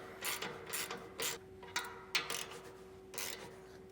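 A hand ratchet clicks in several short bursts while tightening a U-bolt on an anti-rattle trailer hitch clamp, a close mechanical ratcheting with brief pauses between strokes and a steady faint hum underneath.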